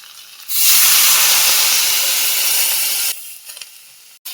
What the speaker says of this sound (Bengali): ভালো করে ভাজা হয়ে গেছে, এবার আমি জল দিয়ে দেবো।